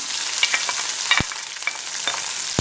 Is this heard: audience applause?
no